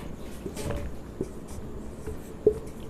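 Pen scratching on paper while working a class 10 quadratic equations math problem, faint soft strokes with a few taps, quiet and close with no talk.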